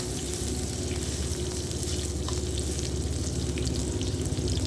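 Sliced eggplant fries in hot oil in a pan, giving a constant close sizzle and crackle that holds steady throughout with no voices.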